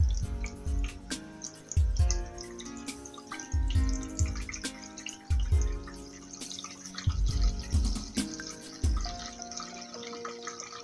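Water poured into a baking pan holding seasoned chicken, a steady trickling and splashing with a series of uneven liquid pulses, close and fairly quiet, with clinks of the pan.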